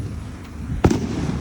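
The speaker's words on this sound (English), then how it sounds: "I don't like the sound of firecrackers" A single sharp firecracker pop bursts out at a distance over steady outdoor background noise, one brief loud crack with a short ringing tail during a fireworks show.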